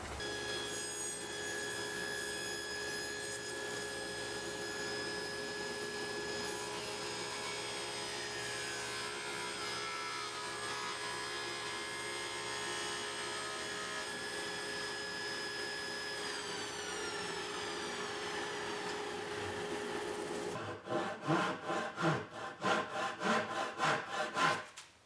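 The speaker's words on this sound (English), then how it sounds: "I'm just going to use the table saw and raise the blade." A table saw with its blade raised cuts through a round wooden workpiece, giving a loud, steady high-pitched whine for about twenty seconds that breaks into choppy, pulsing bursts as the cut finishes.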